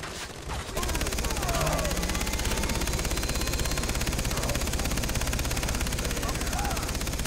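A vehicle-mounted machine gun in Far Cry 3 fires in a sustained rapid burst, loud and close, with engine rumble underneath and a brief quieter lead-in before the firing starts.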